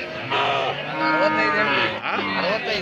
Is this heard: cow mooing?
yes